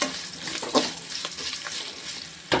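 Green chili, ginger and cashews frying in oil for coconut rice, a steady close sizzle with stirring scrapes and a brief louder crackle near the end.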